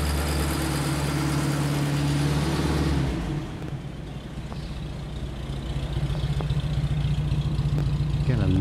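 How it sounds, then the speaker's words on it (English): A vintage car engine idles steadily at a museum with a muted exhaust note, a low, even rumble that dips briefly midway before settling, close by, with faint talking in the background. "lovely muted exhaust note"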